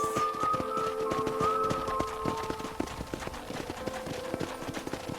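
Horse hoofbeats in the video game Red Dead Redemption, a steady, rhythmic clip-clop of galloping hooves close up, running continuously over a tonal game soundtrack.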